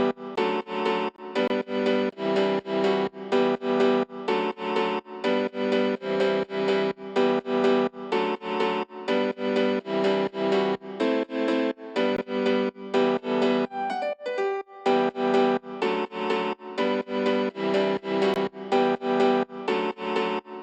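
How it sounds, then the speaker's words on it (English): A solo piano plays a full catchy electronic-style composition, steady rhythmic chords and melody repeating in regular bars at a moderate, even loudness with a brief thinner break midway. "let's hear the entire composition on the piano"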